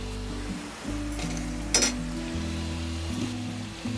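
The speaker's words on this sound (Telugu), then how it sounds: "ఇదిగోండి ఇలా ఉడుకుతూ ఉండాలన్నమాట" A pot of tamarind and broad beans bubbles steadily at close range, a continuous soft sizzling boil with a low hum underneath and a brief clink partway through.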